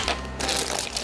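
Plastic bag holding a McDonald's Happy Meal Super Mario Koopa Shell toy is cut open, giving a close, steady crinkling rustle that lasts about a second.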